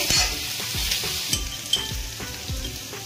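Eggplant pieces sizzling in a pan for a Khandeshi-style vegetable dish, with steady broadband frying hiss and a few soft rhythmic scrapes of a spoon stirring through the pieces, close up and with no talking.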